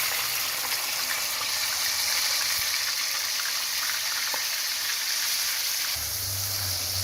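Ground onion paste fries in hot oil in a pan, a loud continuous sizzle and hiss that holds steady throughout, with a low rumble joining near the end.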